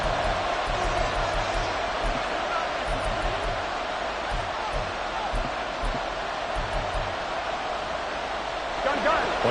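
A football stadium crowd late in a Bengals–Bills game roars steadily and densely throughout, a continuous wash of cheering noise with commentary speech over it.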